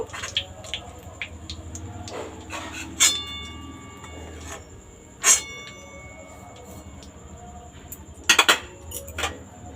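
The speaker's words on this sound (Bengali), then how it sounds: "তেলের মধ্যে যে এই যে কুচিগুলো আছে এগুলো ছান্তার সাহায্যে তুলে নেব" A metal slotted spoon scrapes and clinks against a pan while lifting fried bits out of oil after frying chicken pakora, with irregular sharp clatters over a low sizzling bed and no talking.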